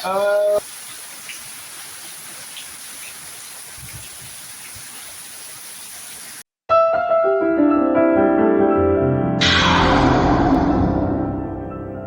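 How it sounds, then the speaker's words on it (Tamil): A strong wind and rain storm makes a steady, dense hiss for several seconds before an abrupt cut into loud music. "பாருங்கள் காற்று கொண்டது மழை கொண்டது"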